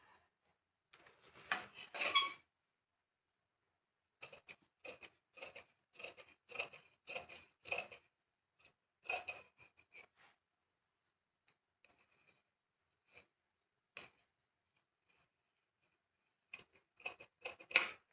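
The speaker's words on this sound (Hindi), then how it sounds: "इसको ऐसे तिरछा काट लेंगे" Scissors cut diagonally through fabric for a Rajputi-style kurti, making crisp repeated snips in short rhythmic bursts separated by pauses, close and clear with no talking.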